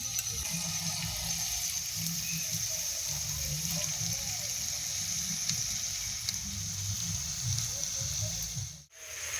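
Pieces of tandoori chicken sizzling in a pan, giving a continuous, moderately loud frying hiss with a faint watery bubbling underneath; it cuts out briefly near the end.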